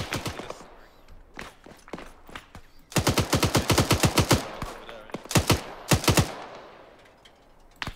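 Automatic rifle fire in the military shooter ARMA 3: several crisp bursts of rapid shots, loud and close, with quieter single cracks and echoes in between and no voices.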